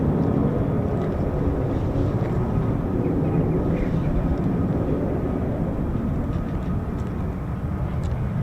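Fighter jets at RAF Lakenheath, home of the 48th Fighter Wing, where F-15s operate: a loud, steady broadband jet roar that holds for the whole stretch without voices.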